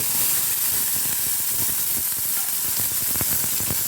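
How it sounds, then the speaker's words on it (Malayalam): Mustard seeds crackle and sizzle in hot coconut oil as the tempering for a spinach (cheera) curry begins, a loud, steady frying hiss with scattered sharp pops throughout and no voices. "വെളിച്ചെണ്ണ നല്ലപോലെ ചൂടായിട്ടുണ്ട് കുറച്ച് കടുകിട്ട് കൊടുക്കാം"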